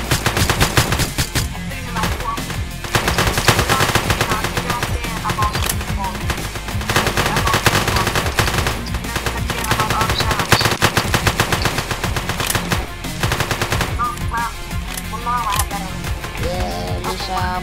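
Rapid machine-gun fire in a video game rattles almost nonstop in dense, loud bursts, with a voice speaking over the shooting.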